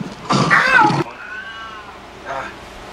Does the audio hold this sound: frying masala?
no